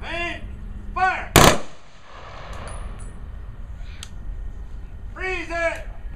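An honor guard fires a single loud rifle volley at a military funeral at Riverside National Cemetery, a sharp crack that echoes and fades. Shouted drill commands come before and after it.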